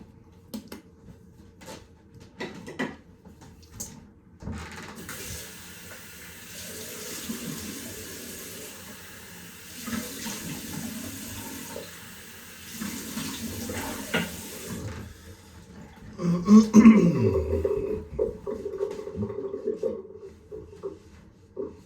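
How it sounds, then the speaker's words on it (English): A bathroom tap runs for a cold face splash after a shave, water hissing and splashing in the sink in intermittent bursts with louder splashes near the end, while someone talks now and then. "let's have a cold splash and see what the aftershave feels like"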